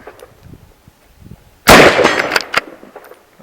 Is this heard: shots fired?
yes